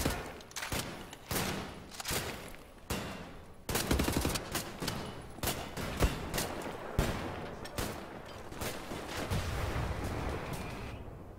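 Rapid bursts of gunfire and a heavier grenade blast ring out in the shooter game Wolfenstein: The New Order during a fight against a heavily armoured super soldier, with dense, loud volleys repeating throughout.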